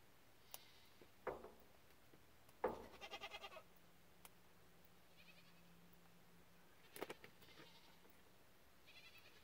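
An older goat bleats in short wavering bursts, a few calls spaced apart across the stretch, fairly faint against a quiet farm background with occasional clicks and taps.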